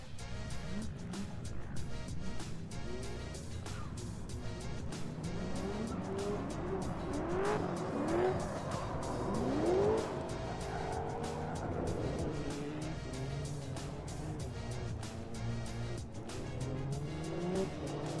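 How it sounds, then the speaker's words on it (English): Drift cars, including a white BMW E36, battle at a kart-track drift competition with engines roaring continuously and tires squealing in several rising screeches, loud and sustained throughout. "But hey, that's drifting."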